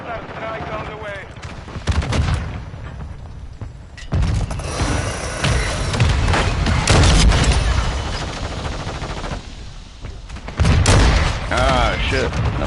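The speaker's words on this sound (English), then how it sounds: "Friendly mortar strike on the way" Mortar shells from a friendly strike in the video game Modern Warfare 2 land in heavy booming blasts, layered with gunfire and battlefield rumble. The barrage is loud and continuous, with brief lulls between dense bursts.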